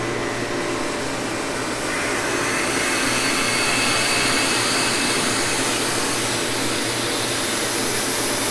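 Reverse osmosis machine running to concentrate maple sap, a steady loud whooshing motor and pump drone, constant and unbroken throughout, with no talking.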